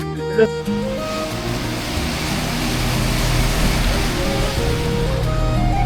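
Water churns and rushes steadily in the wake behind a moving passenger ship on the sea crossing from Cox's Bazar to Maheshkhali, a loud continuous wash with a low hum beneath.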